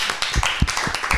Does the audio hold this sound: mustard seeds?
no